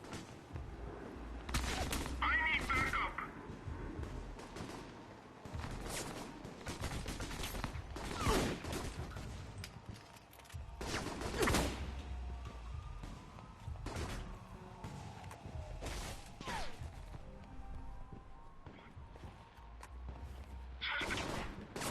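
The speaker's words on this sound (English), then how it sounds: "The noise from those fireworks should cover the sound of gunfire." Bursts of gunfire and crackling fireworks blasts in the video game Alpha Protocol come in irregular volleys, some sharp and loud, with quieter mechanical clanks between them.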